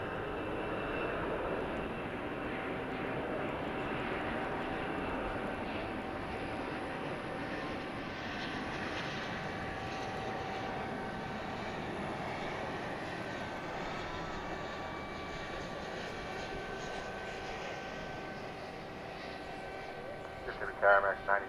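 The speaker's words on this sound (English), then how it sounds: "Here comes a flight from Zurich." A jet airliner arriving from Zurich at Dallas/Fort Worth airport at night gives a steady, broad engine roar that holds for the whole stretch at moderate distance, with a brief louder burst near the end and talk over it.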